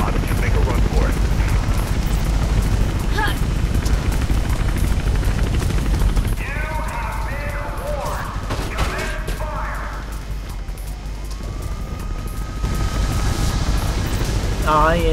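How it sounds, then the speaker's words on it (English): A helicopter hovers and passes overhead in Mirror's Edge, a loud steady rotor roar under game effects, crashes and bursts of speech throughout. "Chopper spotted."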